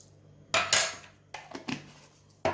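Homemade mayonnaise with salt, dried garlic and black pepper being stirred in a bowl: a few distinct close metallic scrapes and clinks of a spoon, separated by quiet pauses.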